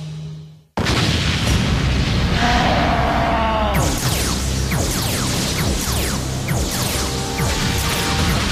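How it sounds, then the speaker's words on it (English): In an animated Bakugan Battle Brawlers episode, after a brief quiet tone, a sudden loud explosion erupts and rumbles on with crashing debris and continuing booms, filling the rest of the clip. "Some kind of explosion."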